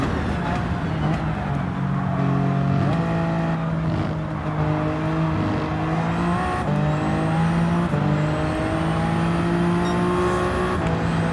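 A Toyota GR010 race car in Gran Turismo 7 screams through a continuous high-revving engine note, with repeated upshifts stepping the pitch down and climbing again, loud and unbroken, with a faint hint of tire noise.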